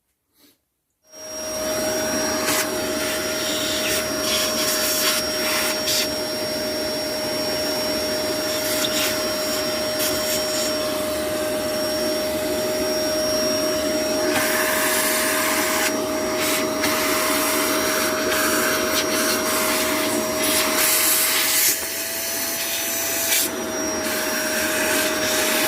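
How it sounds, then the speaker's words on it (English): A vacuum cleaner runs in a workshop with a steady, loud, continuous whine and roar after a brief click at the start, holding constant for the whole stretch with no voices. "What went up the vacuum?"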